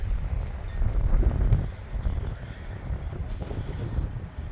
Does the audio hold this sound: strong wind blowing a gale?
yes